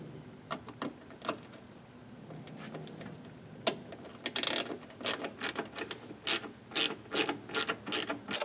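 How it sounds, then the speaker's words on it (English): A small star-shaped key undoes the trunk cover bolts on a Peugeot 307 SW, giving close, sharp ratcheting clicks that start out sparse and then come in quicker clustered bursts. "You use small star-shaped key for the bolts."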